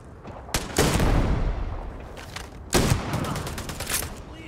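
Weapon gunfire in the space game Starfield, a gun firing 2 cm rounds in two loud bursts of rapid shots, each with a sharp attack and a trailing rumble, close and dominant.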